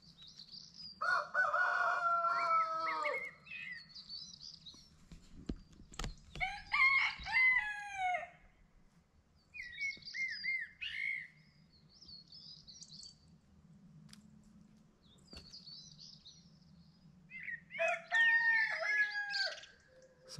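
A rooster crows several times in the distance before dawn while smaller birds chirp and call around it, over a low steady background hum.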